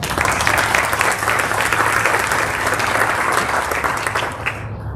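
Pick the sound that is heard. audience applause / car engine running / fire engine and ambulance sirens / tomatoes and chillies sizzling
audience applause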